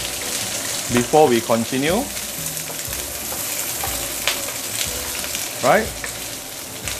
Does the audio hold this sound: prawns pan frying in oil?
yes